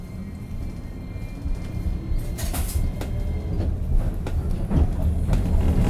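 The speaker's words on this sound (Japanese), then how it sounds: "まもなく電車が右に曲がります。" A Hiroshima Electric Railway Line 1 tram rumbles as it rounds a right-hand curve. A low steady rolling drone builds gradually, with rattles and a few clanks and squeals of the wheels.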